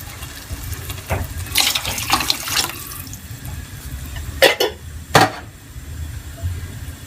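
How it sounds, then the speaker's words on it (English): Broth poured into a pot for seafood soup: a steady liquid pour and splashing, close and moderately loud, with a few sharper splashes toward the end and no talking. "now I'm gonna add the broth, and I'm gonna let that simmer for about a half hour."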